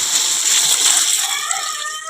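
Water is poured out for a cow to drink, a steady splashing gush running close and loud for the whole stretch, tapering slightly toward the end, with no voices.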